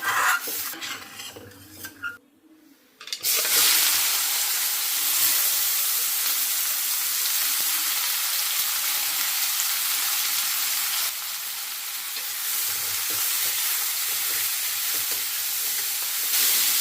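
Vegetables frying in hot oil, a steady loud sizzle filling most of the stretch after a few seconds of quieter clinks and stirring, close by with no talk.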